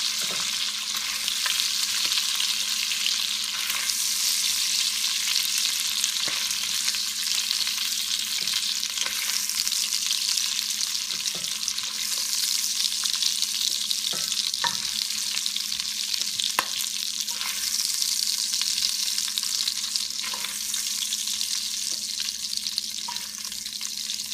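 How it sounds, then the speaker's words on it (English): Sausage browning in a pan for Paleo Zuppa Toscana gives a steady broadband sizzle and frying hiss throughout, with occasional soft clicks of stirring and a low steady hum beneath, no voices. "the sausage has been browning and it's ready to come out"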